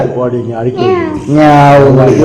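A person's voice mimics a cat, drawing out a couple of wavering, rising and falling meows up close.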